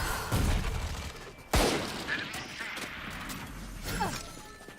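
Swarm grenade blasts in a video game, a few sharp explosive bursts with a loud crack near the start and another later, among scattered gunfire-like pops.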